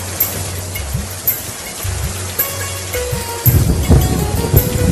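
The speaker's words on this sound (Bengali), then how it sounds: "শাপলা, দিয়া ও রাজু বৃষ্টির পানিতে ভিজতে ভিজতে নদীতে মাছ ধরতে যায়।" Cartoon rain falls steadily in a rural monsoon scene with children heading to the river to fish, a constant loud hiss with faint thunder-like rumbles that thicken toward the end.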